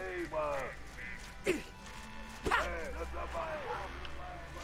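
Dog barking in the World War I game Valiant Hearts: The Great War, a few sharp barks amid whining, yelping calls over a low hum, with a person talking.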